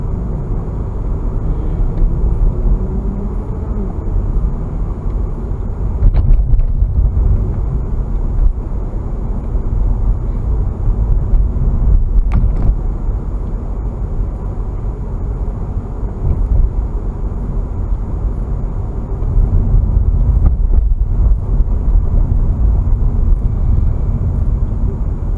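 Steady low road rumble from inside a taxi moving along Central Avenue in Mykolaiv, Ukraine, in Friday evening city traffic, with faint passing-traffic swells and no talk.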